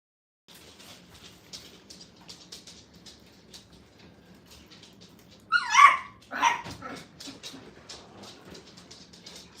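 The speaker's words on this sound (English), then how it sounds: "Somebody went to barking." Puppies in a training kennel let out a short burst of loud, close barks and yips over a quiet indoor background hum.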